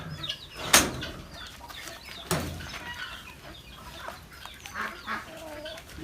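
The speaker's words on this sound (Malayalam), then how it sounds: "ഇതിലിപ്പോൾ നമ്മുടെ ചാത്തൻ കോഴികൾ മാത്രമേ വരുള്ളൂ കേട്ടോ" Native country chickens clucking as they come running toward a coop, with scattered calls, a couple of louder sharp squawks and some wing flutter, fairly close with no talking.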